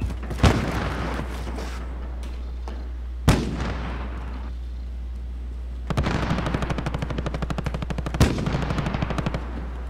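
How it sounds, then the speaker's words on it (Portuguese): Sharp, loud sniper rifle shots in Call of Duty: Warzone ring out with echoing tails, separated by pauses, followed by a long burst of rapid automatic fire. "Tiro de sniper."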